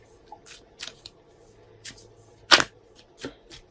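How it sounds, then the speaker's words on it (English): Cards riffled and shuffled in several quick bursts, close by, with one louder snap of cards near the middle and quiet gaps between. "Let me shuffle these cards"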